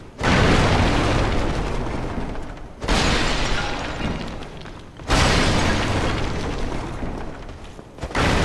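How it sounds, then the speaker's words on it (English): Black firebomb explosions in Dark Souls hit as four loud, booming blasts with sharp onsets. Each one leaves a long, roaring, crackling decay before the next. "Black firebomb."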